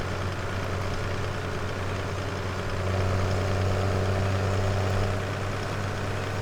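Tractor engine in Farming Simulator 17 running steadily: a loud, constant low rumble with a deep hum that swells slightly midway and holds, with no talking over it.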